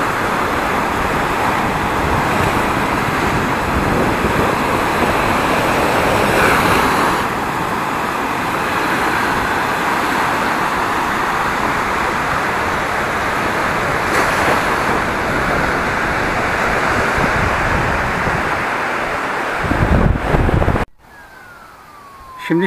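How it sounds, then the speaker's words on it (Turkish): Steady roar of large sea waves breaking on a beach at Bartın, a continuous loud wash of surf with faint distant sounds mixed in, ending abruptly. "Burada da dev dalgalar var ama dediğim gibi çok da etkili değil"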